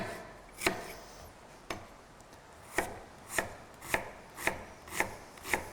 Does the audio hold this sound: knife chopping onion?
yes